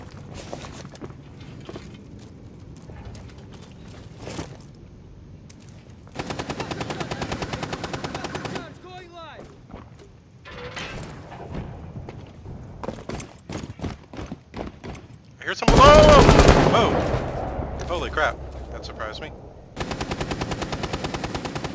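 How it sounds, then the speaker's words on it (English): Automatic gunfire in the tactical shooter Rainbow Six Siege comes in several sharp close bursts, separated by footsteps, thumps and quieter gaps, with one heavy loud burst near the end. "Firing shot."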